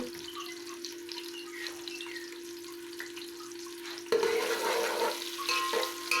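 Chopped onions sizzling in oil in a pan, quiet at first then louder and busier partway through, with a steady hum underneath and no talking.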